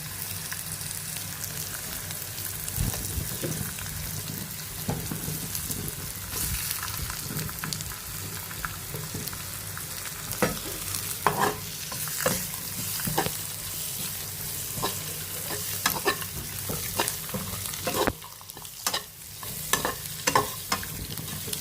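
Ingredients for a boiled egg fry crackle and sizzle in a pan, with frequent scraping stirs of a spoon cutting through the steady frying hiss.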